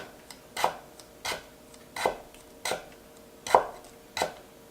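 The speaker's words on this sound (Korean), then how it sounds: "그다음에 중간에서 약간 뒷부분으로 끝까지 한번 이렇게 밀어서 썰어 보세요." A kitchen knife push-slicing food on a cutting board, about seven evenly spaced strokes, each a soft scraping slide ending in a crisp knock on the board, close and clear with no talking.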